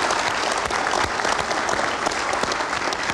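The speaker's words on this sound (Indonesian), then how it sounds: "pasangan Amin, kita berikan tepuk tangan." Studio audience at an Indonesian television talk show breaking into loud, dense applause, sustained clapping throughout with no voices.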